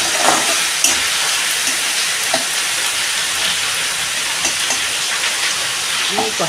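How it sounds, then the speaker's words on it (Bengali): Green chillies and salt sizzling in a tempering of hot oil, a dense continuous hiss with occasional faint clicks of stirring, steady and close throughout. "লঙ্কা কেটে নিয়েছি, এটা আমি ফোড়নে দিয়ে দিচ্ছি। দিয়ে দিচ্ছি নুন, এটাকে আমি কষিয়ে নেব।"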